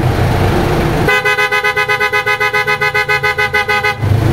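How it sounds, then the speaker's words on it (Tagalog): A loud aftermarket PIAA horn on a Mitsubishi blares for about three seconds in a rapid pulsing, warbling pattern, with engine rumble before and after. "pakinggan natin yung tunog ng auto style horn."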